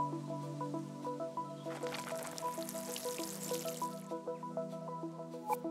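A plant is watered in the video game Dordogne, with soft trickling and splashing water in the middle of the clip beneath gentle plucked music tones that run throughout.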